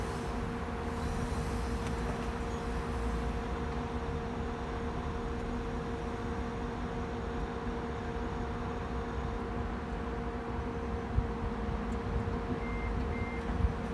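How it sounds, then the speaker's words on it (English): A rapid electric vehicle charger's cooling fan runs at steady volume with a constant whir and faint tonal hum, and a couple of faint short beeps come from the car near the end. "So you can hear the fan starting up."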